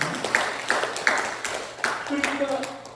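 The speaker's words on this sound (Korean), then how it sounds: "박수 한번 합시다." A church congregation claps together during a Sunday service, with sharp claps repeating in a fairly even rhythm and a preacher's voice continuing over them.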